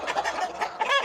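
Black hens on a farm in Fergana region cluck in quick, close bursts, several short throaty calls packed into about a second.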